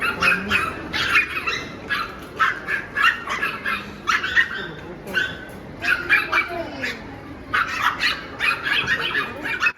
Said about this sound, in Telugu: ఆ కుక్క ఎలా పోట్లాడుతుందో ఆవిడతో, రమ్మంటే రావట్లేదు.